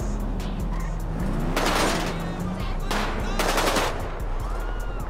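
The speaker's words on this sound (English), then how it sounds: "I don't know why they won't let me shoot out the window with this gun" Rapid bursts of automatic gunfire fired out of a car window in GTA 5, two dense volleys over a running car engine, loud and close with sharp repeated cracks.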